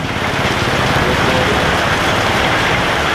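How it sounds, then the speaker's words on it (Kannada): Heavy rain pours steadily outdoors, a dense, unbroken hiss of drops striking surfaces at close range, loud and constant throughout with no voices. "ಹೊರಗಡೆ ಬಂದರೆ ಮಳೆ ನೋಡಿ ಯಾವ ಥರ ಬರ್ತಿದೆ."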